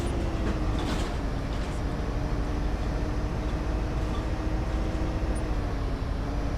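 A video game train in Bus Simulator 18 rumbles past in a steady, loud, continuous roar with a low mechanical hum running underneath, close and unbroken throughout.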